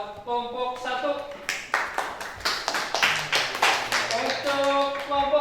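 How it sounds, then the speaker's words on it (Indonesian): A classroom group gives a short round of clapping for the first team after its presentation, with individual claps landing irregularly. Voices talk over the applause throughout. "Tepuk tangan buat kelompok 1."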